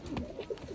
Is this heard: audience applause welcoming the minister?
no